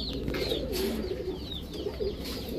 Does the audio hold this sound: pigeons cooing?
yes